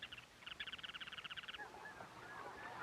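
A flock of snow geese at a tundra nesting site honks in a rapid, rhythmic run of calls, faint and distant, followed by scattered softer calls against a quiet background.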